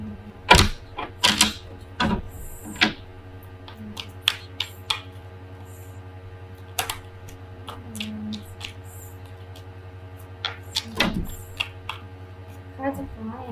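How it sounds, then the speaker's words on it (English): Tarot cards are gathered up and slipped back into a deck, giving scattered sharp taps and flicks over a steady low hum. "Too many cards fell out here, so I'm going to put them back."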